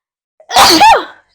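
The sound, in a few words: sneeze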